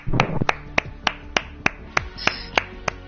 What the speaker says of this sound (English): Come on, everyone, clap for yourselves.